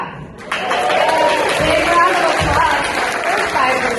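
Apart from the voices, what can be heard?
audience applause for presenters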